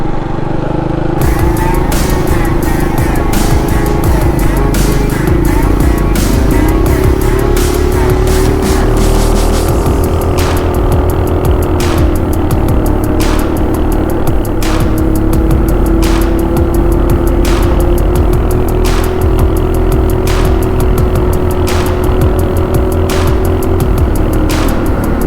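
A Stingray motorbike engine revving hard at full throttle, a loud continuous droning roar that holds steady near the mic for the whole stretch, with a brief dip and rise in pitch partway through.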